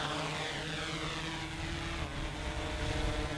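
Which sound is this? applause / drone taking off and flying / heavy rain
drone taking off and flying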